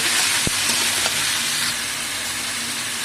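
Tomatoes and green chillies go into a hot pan and sizzle loudly. A dense, continuous hiss follows, with a brief knock of the ingredients landing near the start.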